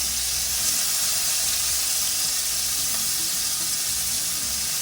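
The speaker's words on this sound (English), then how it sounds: "we're gonna start frying our shrimp" Steady, loud sizzling of shrimp frying in hot oil, a dense hiss that continues without a break throughout.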